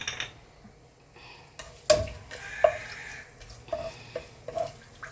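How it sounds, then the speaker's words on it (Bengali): Whole spices (bay leaf, half a star anise, cinnamon, black and green cardamom, cloves) stirred in hot oil for malai chicken, giving a soft sizzle with several sharp scrapes and clicks of a spoon against the pan. "কয়েক সেকেন্ড একটু নাড়াচাড়া করবো"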